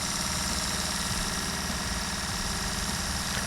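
A clone sewing machine runs continuously, a steady, close mechanical hum with a fast rhythmic chatter throughout, no voices.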